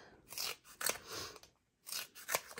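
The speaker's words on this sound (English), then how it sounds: "I'm going to cut some strips for my frame" Scissors snip through strips of foam adhesive sheet for a card frame. Several close, crisp cuts come in short bursts with brief pauses between them.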